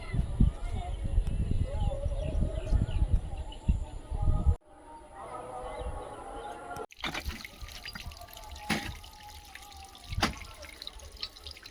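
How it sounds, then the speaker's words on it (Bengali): Water poured onto newly planted garden plants, splashing and trickling in uneven spurts, close, mixed with voices speaking nearby and a few sharp cuts in the sound. "জল দেওয়া হচ্ছে আর কাদা হয়ে যাচ্ছে না"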